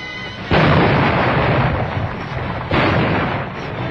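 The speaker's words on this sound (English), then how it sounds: "This radar-controlled gun is incredibly accurate." HMS Bristol, a destroyer, firing her radar-controlled 4.5-inch naval gun: two loud, heavy booms about two seconds apart, each followed by a long rumbling decay.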